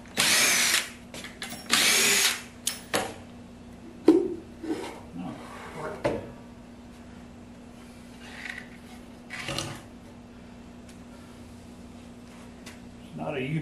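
A power drill backs screws out of a glued wooden box in two short, loud whirring bursts, then lighter scraping and handling noises with a steady background hum.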